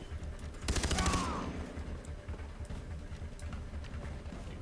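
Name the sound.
gunfire in video game Far Cry 3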